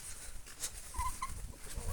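Chickens clucking and pecking at grass nearby, with soft scattered scratching and low farmyard murmur; a brief higher call rises once.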